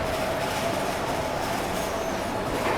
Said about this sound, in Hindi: निर्धारित समय से लगभग 20 मिनट की देरी के साथ अपनी ट्रेन डिपार्ट कर रही है ओल्ड दिल्ली रेलवे स्टेशन